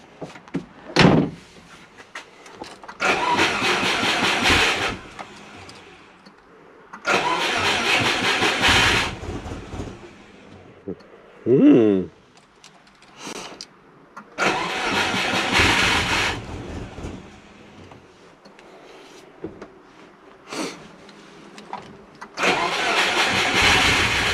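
A Subaru Forester engine cranks and catches several times in a row, each start a loud broadband burst of several seconds separated by short pauses, with a brief whining crank in the middle; no talk.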